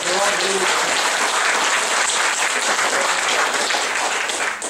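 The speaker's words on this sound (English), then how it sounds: "would you honor him this morning and give him a round of applause?" Sustained audience applause fills a hall at the 2017 Ohio Civic Leadership Forum, a steady dense wash of many hands clapping at full volume that tapers slightly at the very end.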